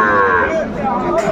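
A Sahiwal bull at a Kurigram cattle market gives one loud, close, drawn-out moo that fills most of the moment, with market noise faintly behind it.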